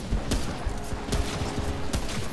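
Rapid bursts of gunfire, a shotgun loaded with fire ammo in Remnant: From the Ashes, cracking in quick succession over dense, rumbling game combat noise.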